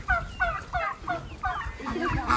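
Farm chickens feeding call out in a run of six or so repeated, throaty clucks, loud and close, with a brief pause before a final burst.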